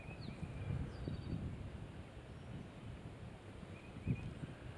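Steady low wind rumble and buffeting on the microphone beside a bass-fishing bank, continuous and moderately faint, with a few faint bird chirps.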